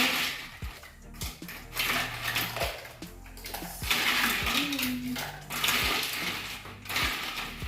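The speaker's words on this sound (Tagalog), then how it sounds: "pupunuin natin itong ating mga cups ng ice" Ice cubes dropped into cups while preparing brown sugar drinks produce repeated sharp clinks and clatters at an uneven pace, close by, with a voice talking underneath.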